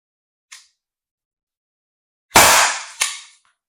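A Byrna CL launcher fires a .61 inert chemical round in one sharp, loud pop, followed by a second crisp crack; a faint tick comes earlier in otherwise silent surroundings.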